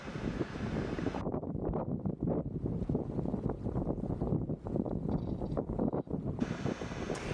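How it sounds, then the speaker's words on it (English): Steady wind rushes across the microphone aboard a sailboat in a force 3 to 4 easterly, with broadband buffeting and some water wash continuing loudly and evenly throughout, no voices. "we enjoyed some of the best sailing for the whole trip, with force 3 to 4 wind from the east"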